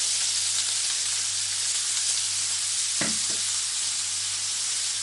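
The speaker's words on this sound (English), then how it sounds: "Now the oil is hot enough. I'm just transferring my finely chopped onions." Finely chopped onions sizzle in hot oil for chicken Chettinad, a loud continuous close frying hiss with a brief scrape or stir about midway, no voices.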